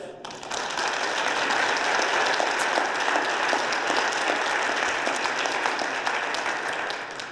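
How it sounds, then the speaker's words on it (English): A conference audience applauds the panelists at the close of a working session, a dense, steady patter of many hands that holds at an even level for about seven seconds, with no talking over it. "can we have a round of applause for our panelists first?"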